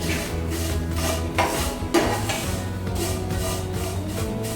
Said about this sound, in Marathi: अगदी ब्राऊन कलर होईपर्यंत आपल्याला व्यवस्थित भाजून घ्यायचे।